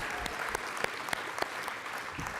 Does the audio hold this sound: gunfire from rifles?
no